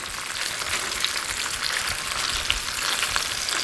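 Chicken roulades and onions fry in a pan with a steady, dense sizzle and crackle that carries on evenly throughout, loud and close, with no talking.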